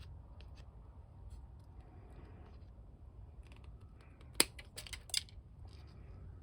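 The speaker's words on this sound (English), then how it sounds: "I can trim that part with my plastic nips in here" Plastic nippers snip off parts of a plastic G.I. Joe toy flak cannon, making two quiet, sharp clicks close together against a soft, near-silent background.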